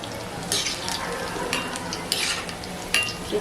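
Spiced boiled-egg balls fry in a pan with a constant sizzle, while a few sharp stirring scrapes and taps of a utensil cut through at intervals, close up and without voices.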